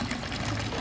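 A drinking water fountain for cows in the Swiss hills runs continuously, a close, steady trickle and splash with no break.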